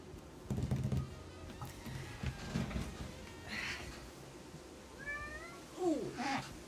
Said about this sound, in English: the cat is going to be there because it's kind of always hanging out